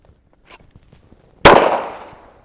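A single sharp shot during a pistol draw drill on a training setup, a loud near crack with a decaying tail after quiet shuffling and handling noises.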